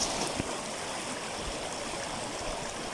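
Stream water flowing steadily at a riverside spot in the Philippines, a continuous broadband rush and trickle at close range, fairly loud and alone, with no voices.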